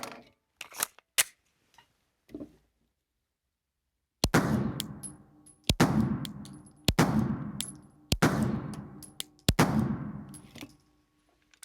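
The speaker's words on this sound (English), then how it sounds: "So I thought I'd get a few shots through this 19X before we got started." Gunshots from a Glock 19X 9mm pistol, five loud sharp reports at roughly even intervals, each followed by a brief echoing decay, with a few faint clicks and handling sounds before them.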